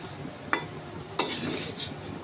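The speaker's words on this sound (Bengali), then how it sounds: "ডাইলের বড়া হইতেছে একদম কম তেল দিয়ে" Lentil fritters frying in a little oil in a pan, a soft steady sizzle with a couple of sharp clinks of a utensil against the pan, no talking.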